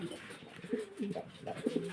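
Soft, low pigeon coos repeat in short rounded phrases at a pigeon farm, several in a row at close range with a quiet background.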